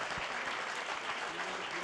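A conference audience claps together in a steady, even wash of applause that holds at moderate loudness through the short stretch, with no distinct voices standing out.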